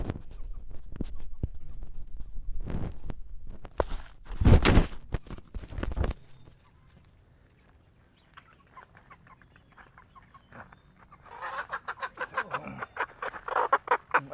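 Golden buff chickens about 2.5 months old in a free-range area give several scattered clucks and squawks, close and fairly loud, with footsteps and rustling, then a long quieter stretch before more clucking returns.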